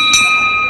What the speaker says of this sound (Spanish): Campana y estamos en pelea, primer round.